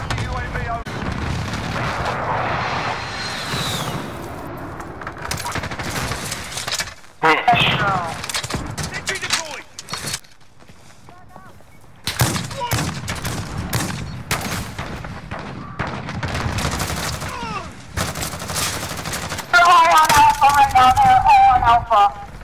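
A cluster strike in the video game Call of Duty: Modern Warfare sets off heavy booms and gunfire in bursts across a busy battle, with brief quiet gaps and a loud closing barrage, under radio-style voice callouts.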